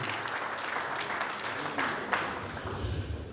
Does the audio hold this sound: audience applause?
yes